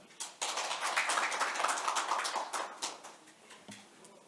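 Audience applause at a conference event, a burst of clapping from many hands rising quickly, sustained for several seconds, then thinning out near the end.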